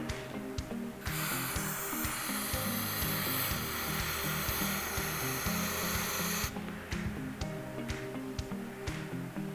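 Carburetor cleaner sprays from an aerosol can into a polystyrene cup in one steady, loud hissing burst of several seconds, with clicks and handling noises before and after.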